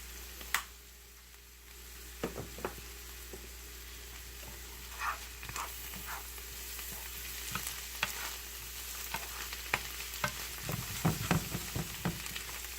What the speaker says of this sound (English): I'm gonna let that saute.